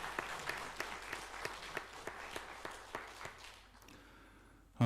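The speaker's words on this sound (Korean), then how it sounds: "우리 호산나 찬양대 한번 박수로 격려하고 축복하겠습니다" A church congregation gives a short burst of applause for the Hosanna choir, a dense wash of clapping with soft rhythmic peaks that fades out after about four seconds.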